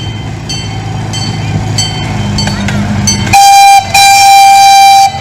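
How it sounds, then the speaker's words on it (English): A passenger train passing through Wheaton, loud rolling rail rumble, then a sustained two-tone horn blast that cuts off briefly and resumes, all close and dominant. "And here's the train."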